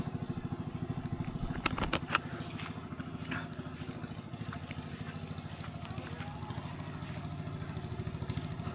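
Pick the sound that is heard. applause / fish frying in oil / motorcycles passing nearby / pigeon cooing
motorcycles passing nearby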